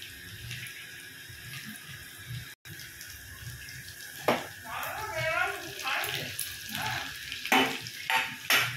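Previously fried spices tipped into chicken frying in a pan at home, with a steady sizzle throughout and a burst of stirring and clattering scrapes in the second half, fairly close.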